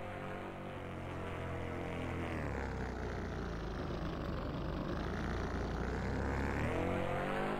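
Simulated RC plane in Aerofly RC 8 landing, a steady whining electric motor hum that sweeps down in pitch, then rises again near the end, continuous and fairly loud with no talk.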